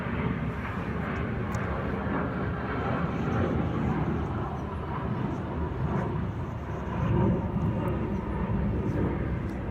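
An airplane flies overhead, a broad steady engine roar that swells slightly near the end and stays moderately loud throughout, with no talk over it.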